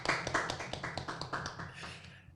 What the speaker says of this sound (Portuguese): Receba com a salva de palmas